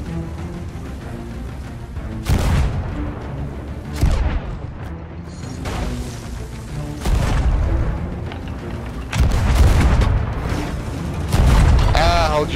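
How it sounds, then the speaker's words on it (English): Pirate ship cannons in Sea of Thieves fire in a series of heavy booms at uneven intervals, loud and close, over sea and creaking-ship ambience with a voice talking in between. "Let them taste the triple guns"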